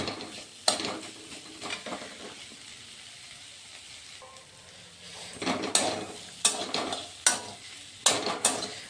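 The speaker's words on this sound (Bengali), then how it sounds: "এখন মিডিয়াম আঁচে রেখে তাকে ভালোভাবে কষিয়ে নেব।" Spiced vegetable puff filling sautéed in a pan over a medium flame: a spatula scrapes and stirs in bursts over a soft background sizzle, with sharp clacks against the pan, close and without talking.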